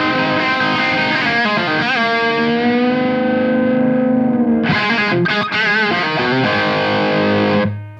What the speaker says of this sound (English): even though it's a thick wall of distortion, all the notes are kind of singing on through